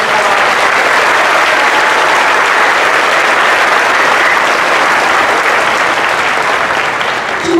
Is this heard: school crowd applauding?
yes